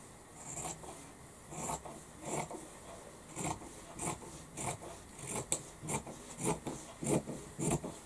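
Fabric for a lined drawstring pouch being cut with scissors after pins are removed, giving a steady series of short, crisp snips in a regular rhythm, close and fairly quiet.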